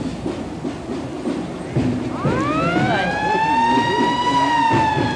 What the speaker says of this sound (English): 1919 had sirens as well as now. Yes, as we see the band, we hear the fire engine